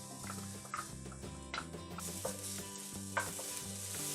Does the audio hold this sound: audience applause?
no